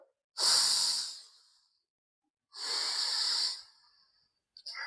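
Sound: exhaling during yoga breathing exercise

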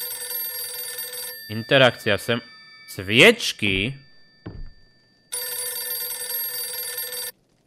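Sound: telephone ringing in the Visage video game

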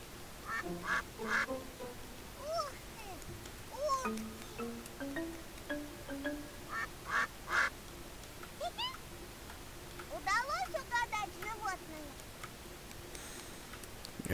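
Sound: goose honking in the My Friend Peppa Pig video game

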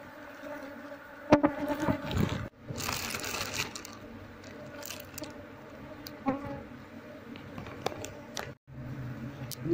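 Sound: honey bee colony buzzing while being moved to a hive box

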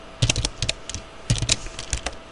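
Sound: typing C++ code on a computer keyboard

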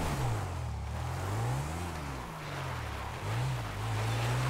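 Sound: motorbike riding in video game GTA V

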